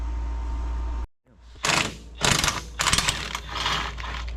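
A winch on a Kawasaki KRX side-by-side hums steadily, then cuts off abruptly. Rattling, clunking mechanical pulls follow in several bursts as slack is drawn out of the line, close and fairly loud.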